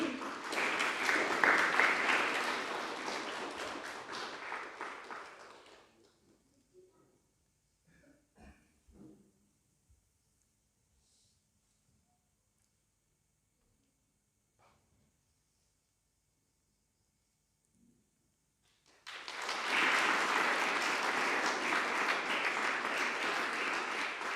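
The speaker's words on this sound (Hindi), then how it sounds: "जोरदार ताली बजा करके" Audience at a New Year event bursts into loud applause for about five seconds, falls nearly silent with a few faint knocks for a long stretch, then erupts into sustained clapping again.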